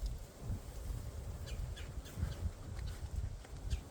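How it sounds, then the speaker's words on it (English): Out in the woods on a sunny day, a woodpecker calls in a string of short, sharp notes at moderate distance, repeating irregularly over a steady low outdoor rumble. "Got the woodpecker out there chirping at me."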